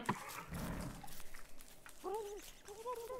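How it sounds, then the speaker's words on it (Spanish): Dogs in Don't Starve Together: two short rising-and-falling whines or yelps near the end, moderately clear over a noisy game background, preceded by a rough, muffled burst of sound. "Perros."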